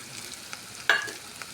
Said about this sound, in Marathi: चिरून घेतलेला कढीपत्ता टाकू थोडे हळद टाकू